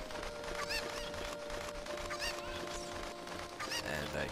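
Chickens clucking in The Legend of Zelda: Ocarina of Time, several short squawking cries scattered across a busy background of game music and ambience.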